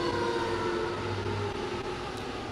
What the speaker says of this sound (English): turning on the siren